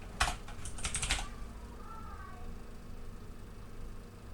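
Quick burst of keystrokes on a computer keyboard while entering a formula in a game engine, a cluster of clicks in the first second or so, then fading into quiet room tone.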